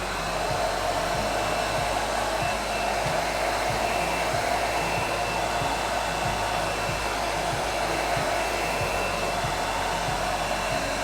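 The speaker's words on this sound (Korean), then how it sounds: "준비가 되면 그때 드라이기를 잡아서 열을 주실 겁니다" A hair dryer blows steadily and loudly throughout, a constant whooshing roar with a low motor hum and no voices.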